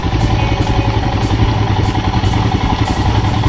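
Bajaj Avenger cruiser motorcycle engine running steadily on a rough forest road, a loud, continuous low rumble with a slightly clattery texture throughout, close by, with no talk over it.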